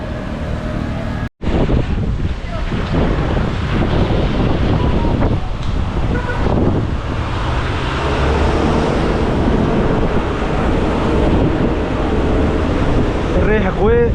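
Strong wind buffeting the microphone in a continuous low rumble, with faint traffic and street noise behind it, in the city centre of Oran, Algeria.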